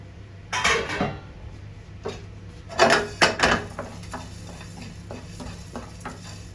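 Coriander and cumin seeds dry-roasted in a hot pan, stirred in bursts of scraping and rattling against the metal, with louder clusters early and softer scattered scrapes and taps trailing off.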